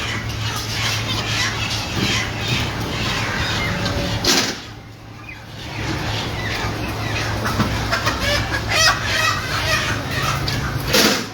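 Chickens cluck and squawk at a small slaughterhouse in Stockton, California, a dense continuous chorus of many birds under steady machinery hum, with a brief dip midway before the noise resumes.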